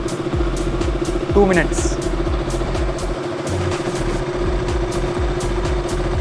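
A motorcycle engine idles after sitting unused for three years, with a steady low, rhythmic chugging throughout and close and fairly loud. A person speaks briefly over it.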